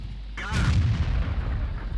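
A T25/2 tank gun fires a single shot in World of Tanks, a sudden loud boom followed by a rumbling, decaying roar that lingers to the end.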